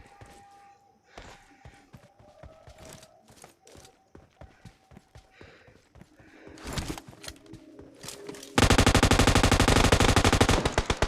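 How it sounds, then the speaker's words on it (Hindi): Gunfire in a battle royale video game: scattered single shots and short bursts with some voice sounds mixed in, then a loud, dense rapid-fire burst near the end. "हमको नीचे से फायरिंग की साउंड आती है।"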